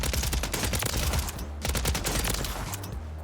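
A suppressed loadout gun fires in the Warzone video game: two rapid, dense bursts of automatic gunfire, close and loud, separated by a brief pause.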